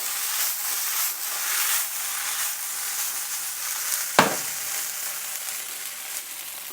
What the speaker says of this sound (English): So let's give it a quick stir. Beautiful. Give it a toss.